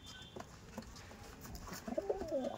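Andhra pigeons in a loft give soft, low cooing calls that grow clearer toward the end over a quiet background.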